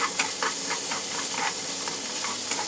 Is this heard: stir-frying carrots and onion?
yes